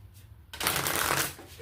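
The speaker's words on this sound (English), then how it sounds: "One more shuffle." A single brisk shuffle of tarot cards, close and crisp, begins after a quiet moment and fades at the end.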